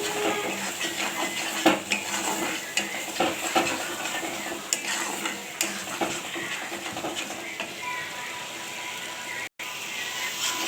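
Salt, turmeric and sugar sizzle in oil in a pan while lentil fritter curry is cooked down, with a steady close hiss. Regular scraping strokes of a stirring spoon run across the whole stretch.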